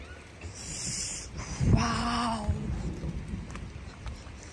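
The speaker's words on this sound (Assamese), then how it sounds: "বৰষুণ দিছে বৰষুণ" Steady night rain falls in Mussoorie, heard from a hotel window, with a broad hiss throughout and a brief low rumble partway through; no voices.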